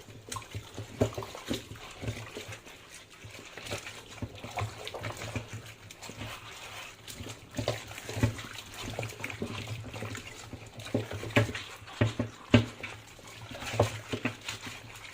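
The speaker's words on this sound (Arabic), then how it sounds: "لازم نحطها في ميه سخنه قبل ما نسلقها، نكب ميتها" Running hot water splashes and trickles steadily over meat (cow trotters) being rinsed, with intermittent clatters and knocks throughout, fairly close.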